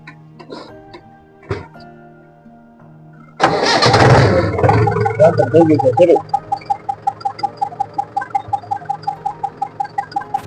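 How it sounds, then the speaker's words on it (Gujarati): A Mahindra farm tractor engine cranks and catches after a quiet start, roaring loudly up close before settling into a steady, rhythmic diesel idle with regular chugging pulses. "ચલાવી દીધું ટ્રેક્ટર"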